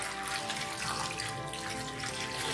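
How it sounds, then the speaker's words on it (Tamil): Water pours steadily into a vessel of washed raw mangoes being prepared for Tamil mango pachadi, a continuous close splashing and gurgling with no talk. "இப்போ இதில் கொஞ்சம் போல் தண்ணி விட்டுக்கலாம்"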